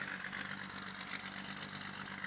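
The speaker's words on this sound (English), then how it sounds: "The tractor sounds awesome." A tractor engine runs steadily on a farm field, a continuous mid-pitched rumble with faint knocking, no voices.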